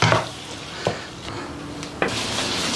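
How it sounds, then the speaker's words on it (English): Beef and broccoli stirred in a pan with cornstarch slurry, with a few scraping clinks of a utensil against the pan over a low background of cooking noise. "give it a stir through"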